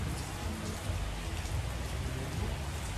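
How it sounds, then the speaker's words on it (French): Steady rain pours down on Koh Samui, Thailand, a dense even hiss of drops hitting surfaces with no voices present. "Il pleut."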